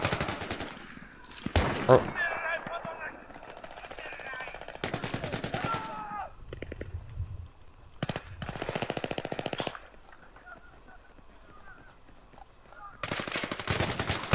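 Multiplayer gunfire from the video game Battlefield 3, including an M4 rifle, comes in several rapid automatic bursts separated by brief quieter gaps, loud and close.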